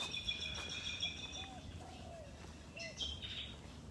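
Birds sing in a mangrove, with faint high chirps and short whistled calls over a soft, steady background hiss, sounding distant.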